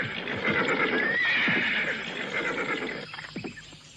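Horses neigh loudly in a long, shrill whinny, followed by a scatter of close hoof clops and snorting as the call fades, with no voices over it.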